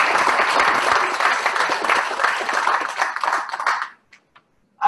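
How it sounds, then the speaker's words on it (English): An audience applauds at a welcome and introductions session, dense clapping sustained for about four seconds before stopping abruptly, leaving near silence with a few faint sounds. "I think that deserves a round of applause."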